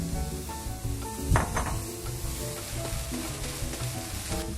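Celery and vegetables sizzle steadily in a hot pan, a continuous close frying crackle with a brief clatter of stirring partway through, no voices.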